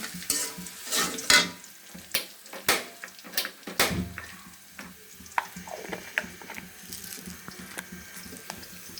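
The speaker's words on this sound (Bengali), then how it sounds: "এই যে পেঁয়াজ দিয়েছি এখন পাঁচফোড়ন দেব দেখছেন আমি তরকারিতে পাঁচফোড়ন দিয়ে রান্না করব পাঁচফোড়ন দিয়ে দিলাম" Onion and five-spice frying in a curry pan while being stirred, with close, sharp sizzles and clatters in the first few seconds, settling into a softer steady crackle.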